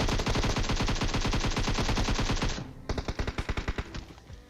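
Rapid automatic gunfire from a weapon in the mobile battle royale game PUBG Mobile, a loud sustained burst of evenly spaced shots that cuts off, followed by a shorter, quieter string of shots.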